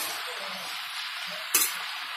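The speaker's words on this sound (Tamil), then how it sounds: "நல்லா கிளறி விட்டுக்கோங்க." Mushroom masala fries in oil as it is stirred in a pan, giving a soft, continuous sizzle with one short scrape of the spoon partway through. No one talks.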